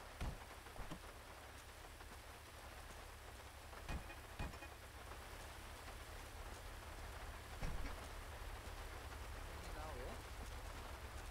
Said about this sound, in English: the rain is a little too loud man